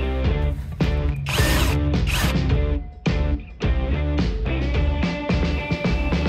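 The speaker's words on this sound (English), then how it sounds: "So I decided to unbolt the steering rack with these two nuts." A hand ratchet loosening steering rack nuts on a hatchback during a differential install: loud, close, rapid clicking pawl strokes in repeated bursts with brief pauses between swings.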